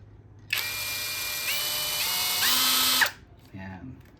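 A Ryoku impact drill runs loud and close for about two and a half seconds with a high, whining motor, its pitch stepping up as it speeds. It stops abruptly and a brief second burst follows.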